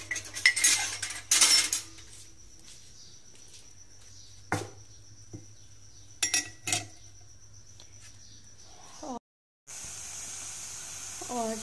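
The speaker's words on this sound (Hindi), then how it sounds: "निकाल लेते हैं कप वगैरह" Cups and dishes clatter as they are taken out for tea in a home kitchen, with a busy burst of clinks at the start, then a few isolated knocks and taps spread apart over a quiet background hum.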